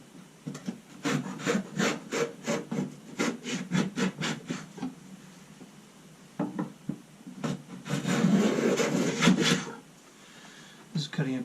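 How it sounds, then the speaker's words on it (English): Wood being cut with a quarter-inch groove for a bedside table frame panel, a series of rhythmic rasping strokes close by, pausing midway before a denser burst of scraping, with a voice talking at points. "This is cutting a 1/4 inch groove, and then the depth stop I think is set to about 4 millimeters."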